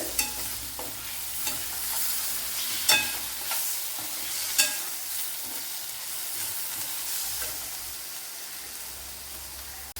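Tomato sautés with fried onions in a pan, making a soft sizzling hiss punctuated by several spatula scrapes and taps, close but fairly quiet, without voices.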